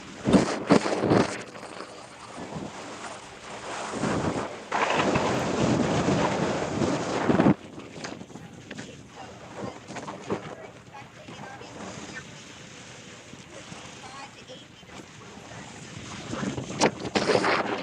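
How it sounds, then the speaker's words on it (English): Strong wind from Hurricane Helene on the coast buffets the microphone with loud, roaring rumbling gusts, heaviest early on and then easing into steadier rushing noise, while a reporter talks underneath. "Of course, it's so windy out there."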